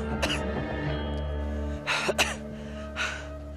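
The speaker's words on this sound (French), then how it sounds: "L'air se raréfie et je peine à respirer." Heavy, laboured breaths of a climber struggling in thin air at 3600 metres, a few audible gasps and huffs over a steady low background hum, close by.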